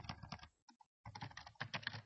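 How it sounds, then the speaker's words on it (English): Keys clacking on a computer keyboard in quick, uneven bursts, with a short pause partway through, close by and fairly quiet, with no voice over it. "You might actually have to type this thing over here"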